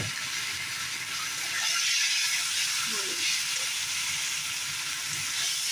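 Mochar kopta curry with cumin powder simmers in a pan, giving off a steady, close hissing and sizzling bubble that continues without a break.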